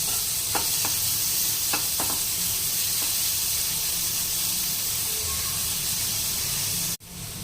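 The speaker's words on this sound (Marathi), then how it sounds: "कांदा घालून कांदा छान लालसर होईपर्यंत परतून घेणे" Finely chopped onion frying in oil until reddish, a dense continuous sizzle up close with a few sharp spatula scrapes early on and a brief cut near the end; no voices.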